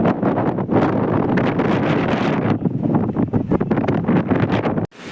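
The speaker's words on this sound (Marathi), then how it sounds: "इकडे हा बीच एकदम मस्त असा वारा आहे" Strong, steady wind sweeps across an open beach, buffeting the microphone with loud, continuous rumbling gusts that cut off abruptly near the end; no one speaks.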